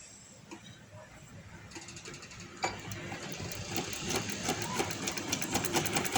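A sewing machine stitches the seam of a palazzo trouser, whirring quietly at first, then running faster and louder with a rapid, even mechanical clatter.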